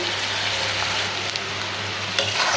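Onions sizzling steadily in hot oil in a pan while being stirred, preparing a loitta (Bombay duck) fish bhuna; a continuous close frying hiss with a few brief scraping stirs, no talking.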